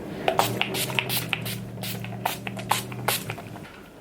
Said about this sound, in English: spray myself with my Urban Decay Chill Setting Spray